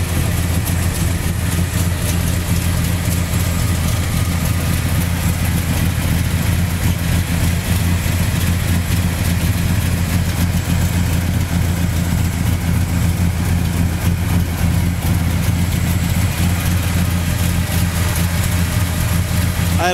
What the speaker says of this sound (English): It's powered by a great running 340 four barrel with headers.